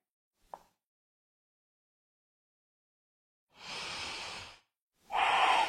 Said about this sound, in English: Come back to the Ujjayi breath.